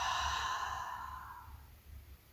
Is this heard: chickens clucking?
no